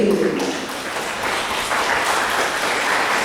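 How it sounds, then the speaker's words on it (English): At an academic lecture, an audience breaks into warm applause that stays steady and fairly loud, with a brief voice at the very start. "they deserve a wonderful applause for the kind of work that they are doing"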